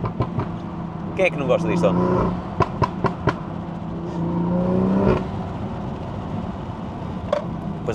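A Toyota Supra's engine revs and surges in swells under someone talking close by, with a couple of louder rising pulls and sharp clicks from inside the car.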